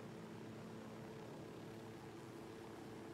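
Helicopter in the video game Ghost Recon Wildlands, a steady dense rotor and engine drone that holds evenly throughout, loud and continuous with no talk.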